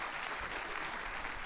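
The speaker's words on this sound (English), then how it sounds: "Can we have a round of applause for Arya?" A crowd applauds steadily at the opening-day ceremony of a Tamil heritage month celebration, a dense, even patter of many hands clapping without pause.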